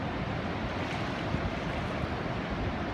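Crooked Creek near Yellville, Arkansas, in a December flood, rushes past as a loud, steady roar of churning water, with wind buffeting nearby and nobody talking.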